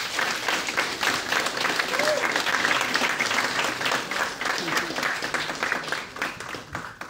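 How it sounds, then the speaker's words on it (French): Audience applause welcomes Edward, a YouTuber, onto the stage at an evening YouTube event, with dense steady clapping throughout that eases slightly near the end. "Je vous demande d'applaudir comme il se doit, Edward."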